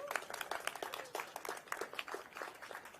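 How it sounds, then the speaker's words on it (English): An audience at an event announcing Virginia rail plans applauds, many hands clapping in a steady, moderately distant patter that carries on throughout. "So please give her a round of applause as well."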